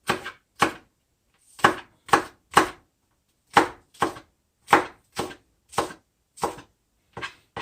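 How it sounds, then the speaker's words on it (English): A knife chops celery and green onions on a cutting board as holiday dinner prep, a dozen or so sharp, close strokes in uneven bursts with short pauses, no talking. "now we've cut up our celery and our green onions"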